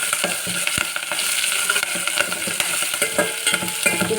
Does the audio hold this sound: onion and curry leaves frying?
yes